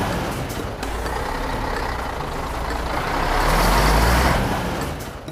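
A truck hauling an electric fishing boat rumbles in steadily, its engine noise swelling toward the middle and holding as the vehicle draws close, with no talk over it.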